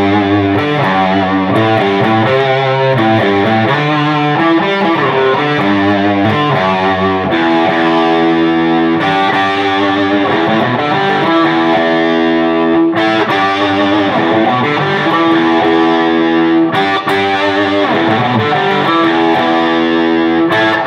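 A Gibson L6S Reissue electric guitar played through a boost pedal for a heavily distorted tone, sustained chords and riffs ringing loud and continuous with no talking.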